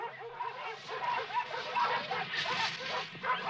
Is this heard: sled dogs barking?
yes